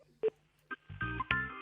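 A telephone number is dialed on a phone: a few short separate tones, then a brief tonal connection sound, quiet and close, with no talk over it.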